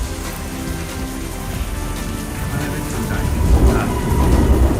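A violent rainstorm lashes the Chinese Culture University campus with a loud, constant roar of rain. A low thunder rumble swells and grows heavier toward the end.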